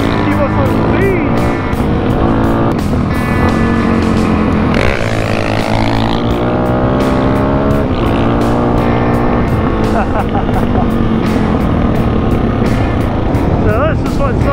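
A Suzuki DRZ400 dual-sport motorcycle accelerating hard on a road, its engine note climbing and shifting through the gears, loud and continuous throughout, with wind buffeting the rider and a voice speaking over it at times.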